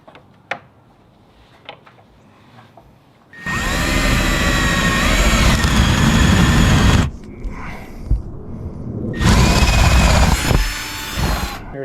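A power drill fitted with a 9/16 paddle bit whirs loudly in two bursts, one lasting about three and a half seconds and a shorter one after a pause, with quiet handling noises before and between.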